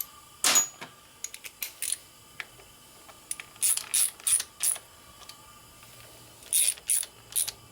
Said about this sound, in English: now I'm going to go ahead and torque the rest of these screws down